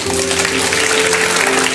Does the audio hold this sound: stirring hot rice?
no